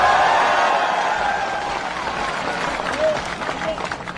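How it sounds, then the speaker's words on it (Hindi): Crowd at a political rally in Hyderabad claps and murmurs as a broad, continuous wash of applause that stays fairly loud, blended with voices throughout. "इस पर ताली मारिए"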